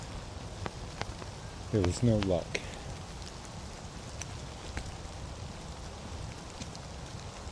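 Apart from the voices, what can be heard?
rain falling at a creek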